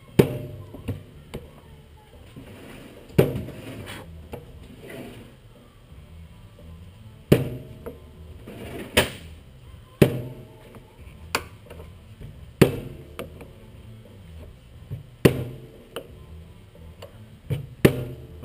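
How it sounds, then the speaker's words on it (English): Hammer striking an injector nozzle on a 6.4L Ford diesel engine, a series of sharp, separate metallic taps spaced a few seconds apart over quiet background noise. "after every move, you want to hit it with your hammer to knock that back down"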